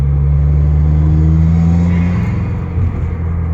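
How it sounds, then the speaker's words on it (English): A 2015 Subaru WRX with a K&N Typhoon intake pulling under light boost in third gear, a loud, close, steady boxer engine drone with induction roar that shifts pitch partway through, no voices. "Even under just a little boost in third gear,"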